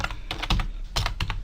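Quick keystrokes on a computer keyboard, a short burst of uneven clicks heard close and alone during spreadsheet work.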